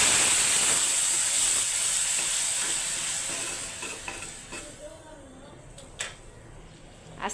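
Dal cooking in a pot for a Bengali midday meal, with a bright steady sizzle and hiss plus occasional stirring scrapes, loud at first then settling lower with a few sharp clinks near the end.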